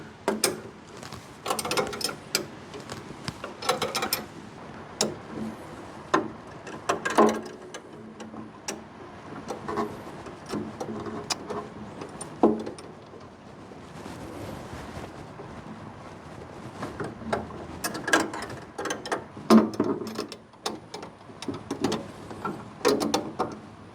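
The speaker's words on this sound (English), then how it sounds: "So now we're gonna tighten everything, at least at the bottom" A ratchet tightens bolts at the bottom of a Wilwood brake master cylinder on a Ford Mustang, giving bursts of rapid metallic clicking broken by short pauses, close and moderately loud, with no speech.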